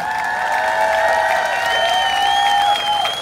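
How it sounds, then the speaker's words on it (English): Steady applause and crowd noise at a Pride Parade stage performance, loud and sustained, with sustained tonal music or whistles running over the top. "give them a big round of applause."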